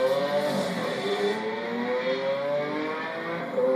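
A Bugatti Veyron and a Lamborghini Aventador accelerate hard from a dig, giving one continuous, loud engine roar whose pitch climbs steadily through the gears, with no talking.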